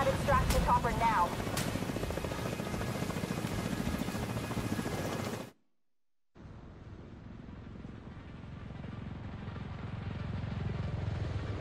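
Extraction helicopter in The Division 2 video game, a steady loud rotor drone with game sounds, cutting to a brief silence before the thudding chopper returns and swells, with speech heard at times.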